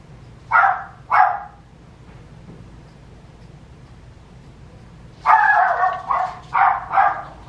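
A dog barks twice, then after a quiet pause lets out a quick run of four or five more barks, moderately close, with no talking.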